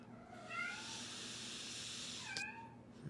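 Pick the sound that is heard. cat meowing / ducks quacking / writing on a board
cat meowing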